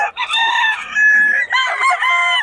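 A gamefowl rooster crows loudly and close by in a long, strained cock-a-doodle-doo, then starts a second crow, with no talk over it.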